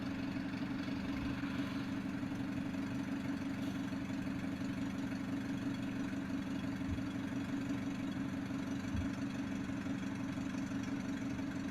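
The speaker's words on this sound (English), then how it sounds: "You can hear her vehicle running as she pulled over to the side of the road" A parked vehicle sits running at the roadside at night, its engine holding a steady low idle hum throughout with no change in pitch and only faint occasional knocks.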